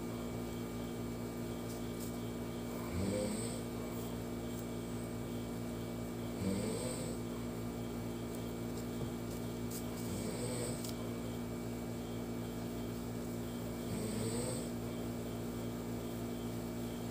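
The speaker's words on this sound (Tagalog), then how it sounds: "Sensya na kayo mga sis sa hilik ng aking asawa." A husband snores while asleep in a room, four slow, rhythmic rasping breaths spaced a few seconds apart, quiet and close over a steady background hum.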